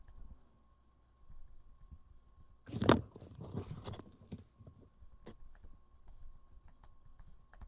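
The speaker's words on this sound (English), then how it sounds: "I'm typing." Computer keyboard typing, a short burst of quick irregular keystrokes with a few scattered clicks afterward, fairly faint over a quiet room hum.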